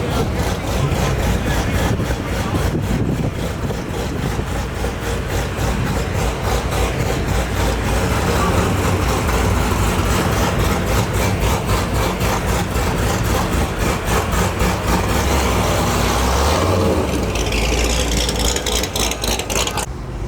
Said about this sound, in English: We got a largely carbon fiber wide body vet pulling in on a drag pack.